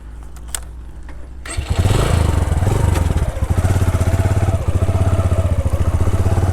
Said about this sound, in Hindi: अभी बाइक लेते हैं और सफ़र पे निकलते हैं।